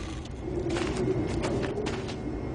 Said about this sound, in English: Machinery's kind of loud, but that's the sound of clean coal technology.